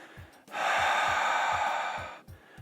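A single long, breathy exhale during a breathing exercise in a squat pose, close and clear, lasting nearly two seconds over soft periodic low thumps.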